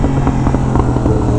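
A Yamaha R1M sportbike blipping its throttle on an automatic downshift, a loud, close, dense engine roar with quick revving pulses throughout.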